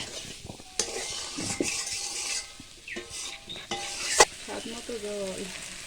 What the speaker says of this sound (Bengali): ভেজে রাখা পনিরগুলো দিয়ে দিলাম, দিয়ে এটাকে কষাতে হবে আবার 2 মিনিটের মতো